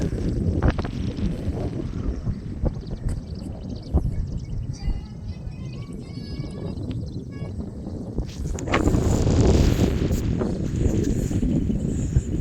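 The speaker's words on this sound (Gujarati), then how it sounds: "મિત્રો પવન એવો આવે ને." Wind blows across an open hilltop and buffets the microphone with a continuous loud rumble that strengthens in a heavier gust past the midpoint, with no speech over it.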